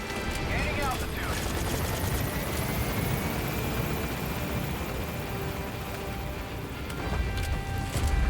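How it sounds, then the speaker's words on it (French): In the video game Metal Gear Solid V: The Phantom Pain, a helicopter thunders close by with a loud, steady rotor roar and engine whine that fills the whole stretch, with a voice heard over it. "Helicopter has arrived."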